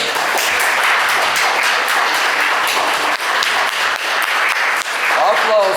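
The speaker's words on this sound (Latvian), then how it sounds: "Tā kā aplaudiet." An audience at a talk show held in a theatre museum office claps steadily and densely for several seconds, a continuous wash of hands with no pauses.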